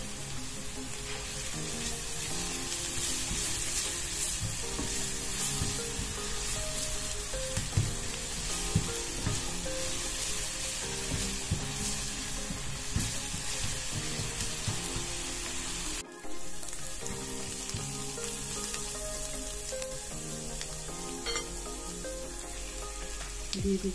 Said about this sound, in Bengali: পেঁয়াজটাকে একটু ভালো করে নেড়ে নিচ্ছি